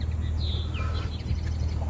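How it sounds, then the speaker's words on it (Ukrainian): Birds sing outdoors in early spring, a few thin whistling and chirping calls over a low, steady background rumble, faint and at some distance. "Ви чуєте, як пташки співають? Ось тут десь сидять, співають, зазивають весну."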